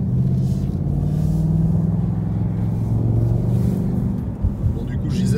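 Steady, loud, low rumble of a 2019 Ford Mustang Bullitt V8 cruising on the road, a continuous engine drone heard from inside the car with no pauses.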